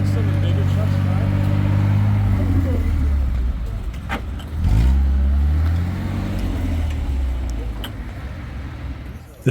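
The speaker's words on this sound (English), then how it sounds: "watch some of the bigger trucks drive" Vintage 4x4 trucks crawl along the Papa Smurf off-road trail at a winter jamboree, their engines droning low and close, with a rising rev midway, while people talk nearby.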